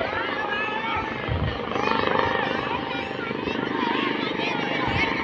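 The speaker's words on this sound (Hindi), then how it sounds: "देखो गाइस एक हेलीकॉप्टर आते हुए बहुत ही स्पीड में और बहुत ही खतरनाक आवाज़ के साथ" A helicopter sweeps past at high speed with a harsh, heavy roar that builds and stays loud across the whole stretch, while people talk over it.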